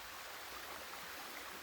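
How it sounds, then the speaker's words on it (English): A creek flows outdoors with a steady, even rush of water that holds constant throughout, with no voices over it. "See this creek behind me?"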